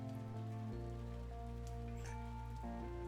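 Steady rain falls in a video game scene before sunrise, a continuous hiss of drops under sustained tonal background music, with no voices.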